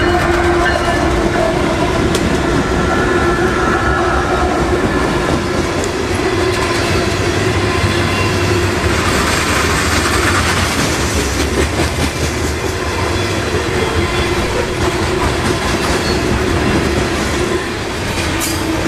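Freight train CO42 rolls past at CP East Baldwin near a rail yard in Jacksonville, a loud, continuous roar of wheels and cars close by, with rhythmic clicking over rail joints and faint wheel squeal.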